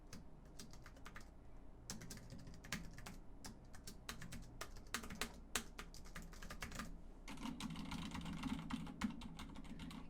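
Someone types on a laptop-style keyboard sold as silent, with soft, quiet keystrokes in irregular bursts and short pauses between them. The typing is heard alone, with no talk.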